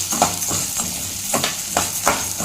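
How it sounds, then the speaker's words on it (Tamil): Urad dal fries in oil for idli podi with a steady sizzle, broken by a few rhythmic stirring scrapes close by. There is no speech. "இப்போ அதே எண்ணெயில் நம்ம வச்சுருக்கிற உளுந்தையும் சேர்த்துக்கலாங்க"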